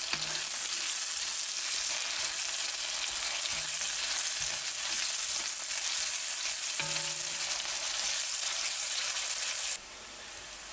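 Garlic sizzles loudly and steadily in a hot pan, a dense, close frying hiss with occasional soft stirring knocks, and no voices.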